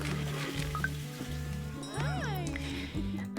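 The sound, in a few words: cat meowing in Cat Cafe Manager video game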